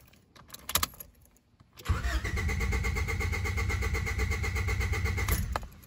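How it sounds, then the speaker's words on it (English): A car engine with a hidden kill switch in the off position cranks steadily for about three and a half seconds with a rapid, even starter whir and never catches; faint clicks and key sounds come before it. "we're going to switch it to the off position, and then we're going to try and start this vehicle"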